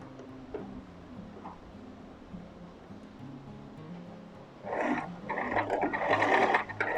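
A sewing machine stitches a men's shirt collar next to its stiff interfacing, soft ticking at first, then a louder, close burst of rapid mechanical whirring in the last couple of seconds.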